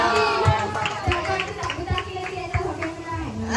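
A family-day group chants and cheers together at a guest house gathering, voices rising in rhythmic shouts with scattered claps, fairly close and loud, with speech mixed throughout.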